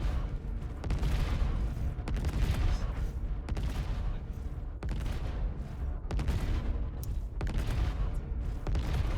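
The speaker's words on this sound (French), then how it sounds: "les petits vaisseaux ennemis, quand on les touche avec ces canons taille 8, ils font pas long feu" Size 8 ship cannons fire at small enemy ships in the Star Citizen video game, a run of heavy booming volleys roughly every second over a dense rumbling battle bed.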